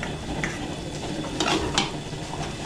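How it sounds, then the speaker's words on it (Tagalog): Garlic and onion sauté in butter and oil with a steady sizzle, while a utensil scrapes and clinks against the pan in a few brief strokes. The cooking sounds are close and continuous, with no talking. "totostahin muna natin yung bawang sibuyas natin"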